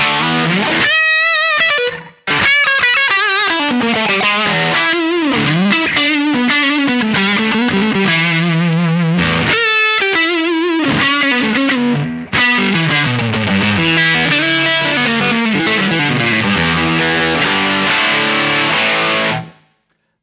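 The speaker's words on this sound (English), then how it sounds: "like right when it starts getting that reverb effect" An electric guitar runs through an ART SGE multi-effects rack processor with a reverb effect, playing sustained distorted chords and melodic lines loud and alone, with a brief gap near the start and another cut partway through.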